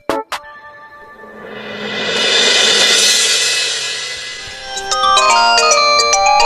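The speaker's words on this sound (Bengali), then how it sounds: "না ফোন করছে" A phone ringtone in a cartoon plays as a bright electronic melody, starting with a couple of short chirps, swelling into a loud sustained tone, then shifting into quick repeated melodic beeps near the end.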